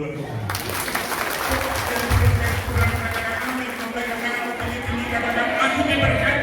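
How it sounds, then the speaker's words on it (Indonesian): Applause from the congregation at a church seminar, steady clapping sustained throughout with a voice speaking over it. "Tepuk tangan dulu buat Tuhan."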